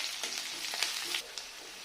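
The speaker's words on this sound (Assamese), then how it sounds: "এতিয়া অলপ ভাজি ল'ম গোটেইখিনি।" Spices, onion and leaves fry in hot oil in a pan, giving a soft, steady sizzle with occasional crackles and stirring scrapes, close but quiet and with no talk.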